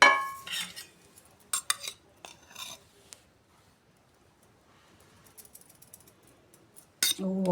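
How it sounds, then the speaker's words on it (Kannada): A utensil scrapes and clinks against a pan while gram flour is stirred and roasted in ghee, in short bursts of metallic scraping and knocks separated by quiet pauses. "ಎಲ್ಲ ಹಿಟ್ಟು ಹಾಕ್ಕೊಂಡು ಹುರಿತೀನಿ."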